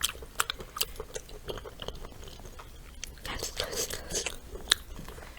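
Close crunchy biting and chewing of small hot chili peppers during a spicy eating session, with several sharp bites early on and softer chewing after, amid faint background noise and occasional speech.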